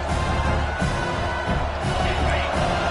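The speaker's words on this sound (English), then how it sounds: "Decibels rising as the crowd gets behind this defense on third down." A stadium crowd at a football game roars steadily on third down as it gets behind the defense, a dense, loud wall of cheering that holds for the whole stretch.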